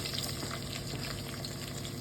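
Finely chopped onions fry in a pan with cinnamon, cardamom and cloves for mushroom biryani, a soft even bubbling sizzle throughout.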